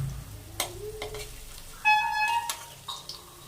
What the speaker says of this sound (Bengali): এক পিঠ ভাজা হয়ে গেছে, আর এক পিঠ উল্টে তোমাদের দেখাচ্ছি।